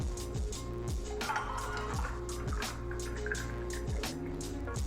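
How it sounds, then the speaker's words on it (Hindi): Cold water is poured into tamarind and plum sharbat in a glass with ice cubes, a steady close liquid pour with a soft trickling, bubbling texture and occasional clinks throughout. "इसके अंदर मैं अब ठंडा या पानी डाल दूँगी"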